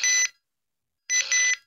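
A Radioshack 12-522 radio gives two short, shrill electronic beeps, the second slightly longer and wavering, separated by about a second of silence, close and clear.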